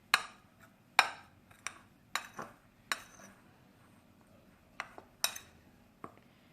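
A spoon scrapes and clinks against a bowl while mixing dry cake rusk ingredients with a pinch of salt, producing sharp, irregular taps spaced about a second apart, close and fairly quiet.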